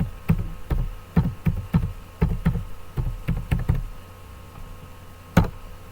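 Computer keyboard typing, a quick run of sharp, close key taps in an uneven rhythm that pauses midway, followed by one louder final tap, with no voices.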